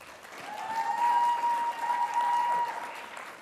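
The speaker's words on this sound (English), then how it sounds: "I feel like she deserves a big round of applause" Audience applause welcoming a panellist at a co-operative congress, a steady wash of clapping from a large room that swells and holds for a few seconds with a faint tonal hum beneath it.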